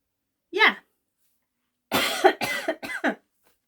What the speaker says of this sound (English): It's not a persistent cough.